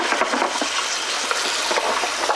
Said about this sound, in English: Going to give them a quick rinse.